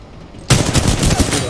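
Automatic weapon fire in the game Titanfall 2 breaks out suddenly after a quiet start as a loud, close, rapid burst of repeated shots, with some voice chat faint underneath.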